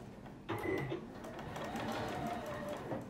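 A sewing machine stitches fabric for a sack-style bag, starting abruptly and then running as a close, steady mechanical hum with rapid needle ticking for under three seconds.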